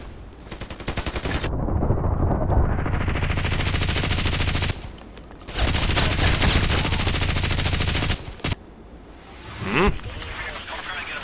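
Rapid automatic gunfire in the online shooter Contract Wars, long loud bursts of machine-gun fire broken by short pauses and a few single shots, close and dominant.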